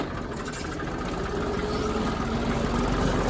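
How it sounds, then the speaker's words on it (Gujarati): A tractor engine idles steadily on a farm with a low, chugging rumble, close by and continuous, no voices. "ટ્રેક્ટર ચાલુ થઈ ગયું"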